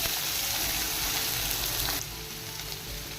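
Onions frying in oil for a restaurant-style mixed vegetable curry, a steady close sizzle that drops slightly in level partway through, with no talking.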